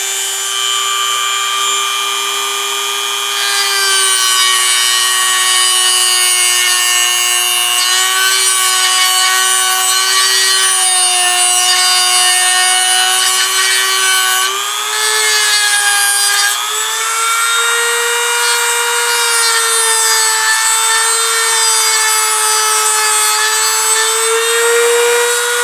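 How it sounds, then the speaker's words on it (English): Dremel rotary tool cutting wood on a Kadet LT-40 model airplane trainer: a loud, continuous high-pitched whine whose pitch wavers as the cut loads and eases, close up and alone. "We'll take our Dremel."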